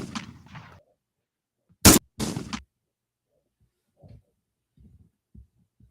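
Video game gunfire: two sharp, loud shots close together, followed by faint scattered clicks and thumps, with a brief burst of talk just before the shots.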